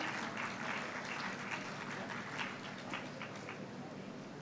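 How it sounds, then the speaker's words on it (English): Audience applause at an international conference on world religions during a closing ceremony, a steady, moderately distant round of clapping that eases off toward the end. "warm round of applause"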